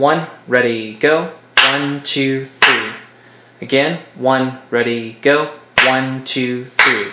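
Hand claps beat out a 3/8 rhythm in short groups of three, sharp and close, alternating with a voice counting aloud before each group.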